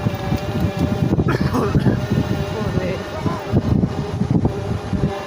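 Wind buffets the microphone on a boat ride across a wetland near Natore, a steady low rumble of gusts throughout while people talk.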